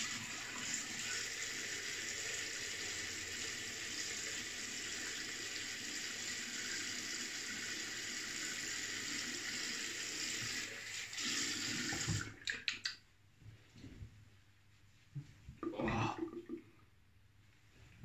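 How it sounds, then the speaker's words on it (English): Tap water running steadily into a sink as a face is rinsed with cold water after shaving, a quiet continuous splash that stops abruptly, followed by a few brief wet splashes. "cold water rinse"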